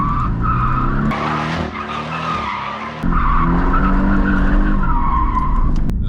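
A Porsche 718 Cayman S with a four-cylinder engine is driven hard, its loud engine note climbing through revs with sharp shifts in pitch as gears change, and no voices over it.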